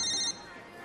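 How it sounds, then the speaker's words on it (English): A telephone rings with a short, bright electronic trill that cuts off after a fraction of a second, leaving quiet room tone. "Are you aware that the phone is ringing?"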